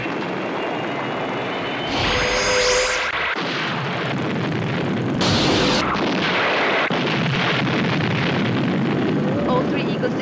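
Loud explosions and heavy blasts as three Eagle spacecraft are destroyed, with sharp bursts over a continuous rumbling roar and voices speaking in between.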